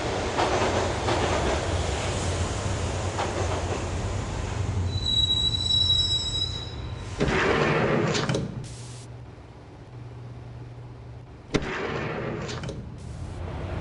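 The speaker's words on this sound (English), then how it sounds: "the train doors had already shut behind me, and I was in for the ride" A subway train in the Max Payne video game rides along with loud, high-pitched wheel squeals and rumbling rail noise that drops away midway, then returns abruptly, with no talking.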